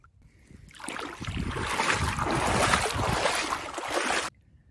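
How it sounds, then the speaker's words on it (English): Roar of ocean surf heard from a coastal cove on the Southern Ranges circuit, a broad wash that swells up, holds steady for a few seconds and then cuts off suddenly. "You can hear the roar of the surf in the background."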